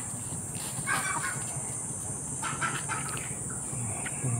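Chickens cluck faintly in the distance over steady outdoor ambience and a constant high insect-like hum.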